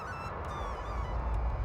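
Cartoon birds call in a flowering garden beside flowing rivers, a short honking, goose-like call held against a steady background, moderately loud with no talk.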